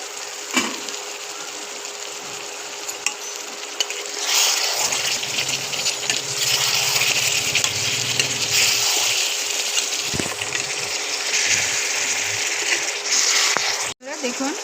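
Mutton curry for a Bengali-style thin mutton stew frying in a pan after yogurt is added, a close, broadband sizzle that swells midway, with scraping stirring clicks and knocks scattered throughout.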